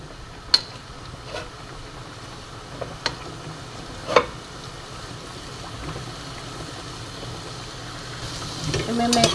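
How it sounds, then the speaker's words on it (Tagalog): Onion and garlic cook in butter and olive oil for chicken mushroom soup, a soft, steady sizzle broken by a few sharp clinks of a utensil against the pan, growing louder toward the end. "And then nilalagay ko na yung ating sibuyas at bawang."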